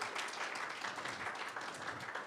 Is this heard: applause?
yes